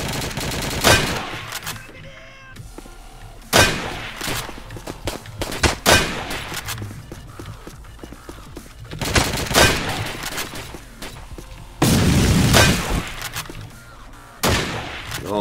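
Bursts of gunfire in the Roblox WWII game: loud volleys of rapid automatic and single shots come in clustered, uneven bursts, separated by brief quieter gaps with metallic clanks.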